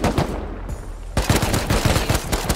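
Rapid bursts of gunfire in the survival game Rust, a dense volley of shots that pauses briefly, then resumes as a loud, continuous exchange of overlapping rounds.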